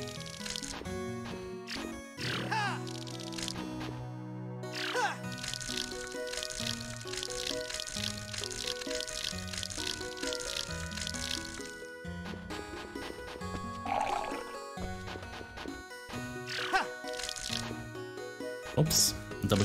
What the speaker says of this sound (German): dann gießen wir nochmal direkt hier das ganze Feld